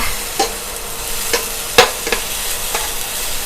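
Mild coloured chili stir-fried in a hot pan hisses in a loud, steady sizzle near at hand, broken by a few spatula scrapes and taps against the pan; nobody speaks.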